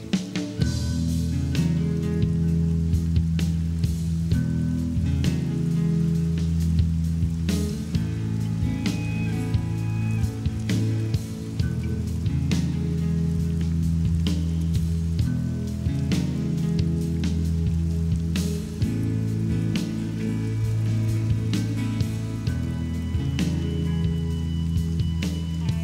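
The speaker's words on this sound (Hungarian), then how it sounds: "Eső nem tágít." Steady rain falls continuously on a mountain trail in the Hagymás Mountains, a soft, even patter filling the whole stretch with no voices.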